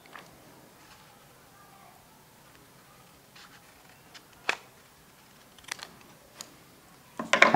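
Scissors cut a paper parallelogram along its height. A few sharp, separate snips and clicks sound close by against a quiet background, and the last one is louder.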